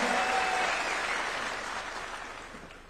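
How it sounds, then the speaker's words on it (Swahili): An audience applauds at a Kenyan public gathering to welcome the Prime Cabinet Secretary. The clapping is dense and sustained and tapers slightly toward the end, with no talk over it. "Tumpigie makofi. Makofi tena kwa Prime Cabinet Secretary."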